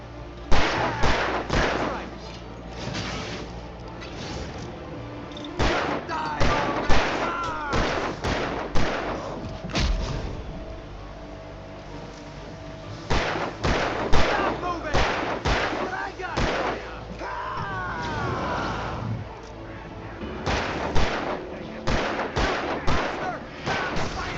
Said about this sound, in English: Shoot somebody!